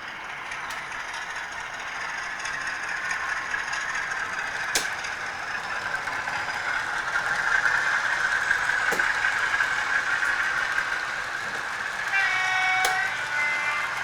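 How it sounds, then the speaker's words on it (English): A model railway Class 50 locomotive runs along a layout track, a steady quiet mechanical whir with faint rhythmic rail clicks that slowly swells as it nears, with no talking. "coming around from the back and underneath the hillside should be the class 50"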